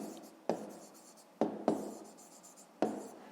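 Pen or chalk writing out a 5th-grade math exercise by hand, heard as close, soft scratching strokes with four sharper taps where the writing starts anew, steady and quiet throughout.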